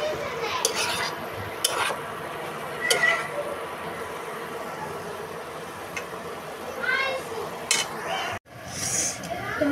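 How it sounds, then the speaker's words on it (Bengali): Steel plates and bowls clink and clatter as they are washed in a home kitchen, scattered sharp knocks and scrapes at close range with quiet background noise and a brief break near the end. "থালাবাটিগুলোকে এখন ধুয়ে নিব"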